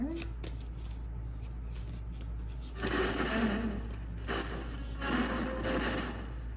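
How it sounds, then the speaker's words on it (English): Decks of tarot cards are shuffled by hand in a quiet room, with soft papery riffles and slides in short bursts, faint and close, among scattered small handling noises. "I'm going to be shuffling the decks to see if anything connects"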